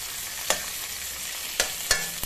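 Urad dal, chana dal and dried red chillies frying in hot oil for a tempering, a steady soft sizzle broken by several sharp clicks of a spoon stirring against the pan.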